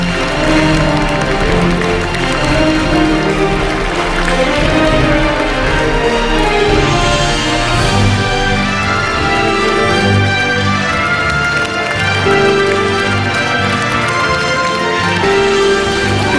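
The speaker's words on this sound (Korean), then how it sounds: "큰 박수 부탁드립니다." A crowd claps to welcome South Korean President Moon Jae-in at a public event, with loud, sustained applause mixed with music, steady throughout with no speech.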